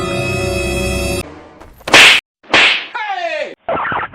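Sharp slaps in a playful slapping game, with two or three loud, crisp smacks and whooshes spaced apart after a steady hum cuts off.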